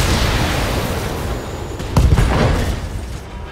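Mech weapons unloading in the BattleTech video game: a dense, roaring barrage of fire with a sharp heavy blast about two seconds in, followed by rumbling explosions that slowly fade.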